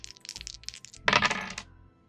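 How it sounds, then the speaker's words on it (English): Dice tossed onto a table during a tabletop role-playing game, a quick burst of hard rattling clicks as they tumble and settle, close and crisp over faint background chatter. "Maybe these dice will roll above a 6."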